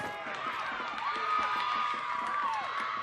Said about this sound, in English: And you can hear the crowd.